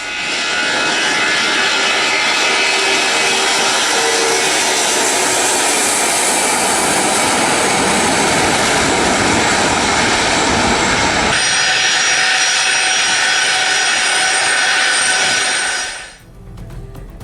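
Russian Doomsday Plane jet engines roar loudly and steadily, a broad sustained whine and rush that holds for about sixteen seconds before cutting off abruptly.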